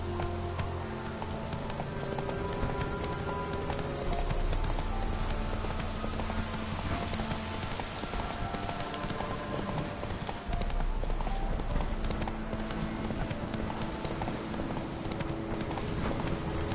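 Roach the horse gallops in The Witcher 3: Wild Hunt, with a steady rapid clip-clop of hooves over a dense game background mix that continues throughout the whole stretch.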